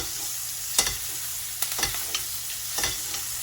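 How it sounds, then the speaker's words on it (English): Steady sizzling of thyme frying in hot butter while basting steak with garlic, with scattered sharp crackles and pops over a constant hiss. "That's just the thyme frying."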